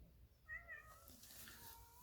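A kitten gives a short, faint meow close by, a single rising-and-falling cry set against quiet room noise.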